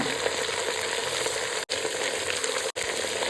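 Onion and ginger frying in oil for soybean and mutton curry: a loud, continuous close-up sizzle with a crackling hiss, interrupted by two very brief dropouts.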